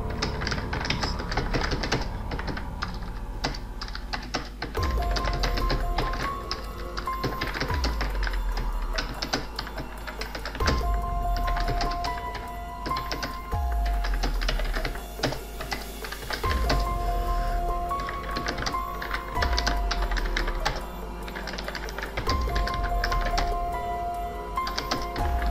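Close, steady typing on a computer keyboard for a calendar design, with rapid continuous key clatter and heavier thumps recurring every few seconds, with no talk.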